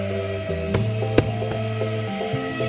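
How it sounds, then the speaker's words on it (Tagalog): A vacuum cleaner's steady motorized drone with a whiny hum runs throughout while cleaning the passenger seats of a Toyota Vios, broken by a few sharp knocks and scrapes close by. "lahat ng upuan dyan, binabacuum ko"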